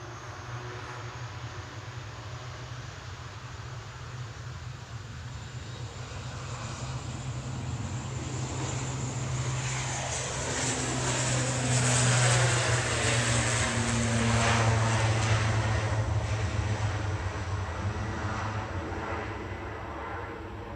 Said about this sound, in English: we've got the 7878-8 coming in from Larnaca